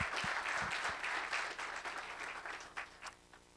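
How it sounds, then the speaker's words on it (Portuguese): An audience at an awards launch event in Belo Horizonte, Brazil, breaks into scattered applause, a moderate burst of clapping that thins and fades over a few seconds. "Uma salva de palmas, por gentileza."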